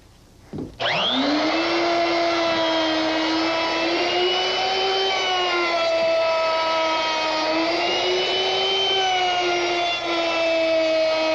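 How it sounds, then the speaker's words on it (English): A router with a half-inch round-over bit rounds over wood edges, starting with a sharp whine that settles into a loud, steady high-pitched scream with slight pitch shifts as it cuts, with no talk. "now all that's left to do is round over all the edges with a half inch round over bit"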